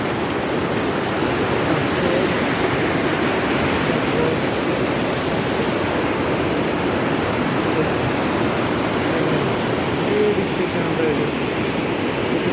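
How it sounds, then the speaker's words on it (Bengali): Water rushes steadily along the Kangsabati canal, a dense, continuous roar close by that holds unbroken for the whole stretch, with no talk over it. "দেখো বন্ধু এটা কমসাবতী কেনার জল"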